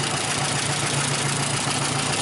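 A 1929 Whippet car engine idles steadily while it warms up, with a continuous even drone that has a faint rhythmic knock and no pauses.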